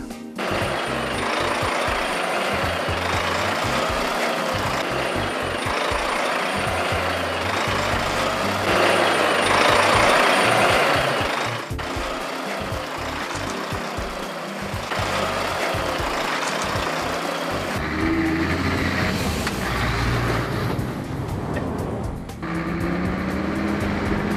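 A three-vehicle convoy of trucks hauling sculptures on low trailers heads off through the forest toward Tewkesbury. Heavy diesel engines rumble loudly and steadily, with clanking, hissing and shifting mechanical noise throughout.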